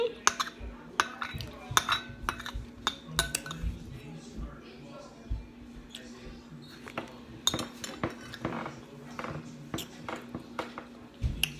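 Metal spoons clink sharply against a bowl of Quaker oatmeal with raisins, in scattered close taps and scrapes, while a voice talks in between.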